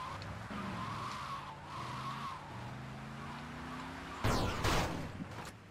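Cars grinding and colliding in GTA Vice City, with steady engine drone and tire skid tones giving way to a sharp, loud crunch of one car's hood ramming another near the end.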